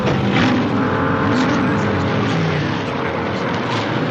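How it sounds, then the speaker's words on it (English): A Master Mark 6 race car accelerates onto the track, its engine a loud, steady roar that holds close and continuous with no voices. "Hughes acelera su Master Mark 6 y entra a la pista"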